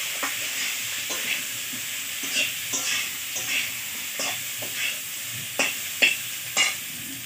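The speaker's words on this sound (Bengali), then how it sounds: "তো আলু দেওয়ার পরে হালকার মধ্যে হলুদ দিয়ে দিল। তো আবার নাড়াচাড়া করছে।" Potatoes with turmeric frying in a pan and being stirred, a continuous sizzle with regular scraping strokes of a spatula roughly every half second, close and clear with no voices.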